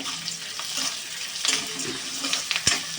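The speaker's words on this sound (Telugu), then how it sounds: "బాగా వేడెక్కుంది కదా ఆయిల్ అయితే మనం వెయ్యగానే అన్నీ ఫ్రై అయిపోయాయి" Green chillies, pepper and curry leaves crackle and sizzle in hot oil, a dense close frying hiss with bursts of stirring and one sharp clink near the end.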